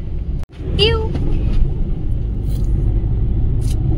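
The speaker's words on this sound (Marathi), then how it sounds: "अशी गाडी चालवायला मजा येते माहिती" A car driving slowly up a hill road toward Ghoradeshwar gives a steady, loud low rumble throughout, with a brief voice heard over it near the start.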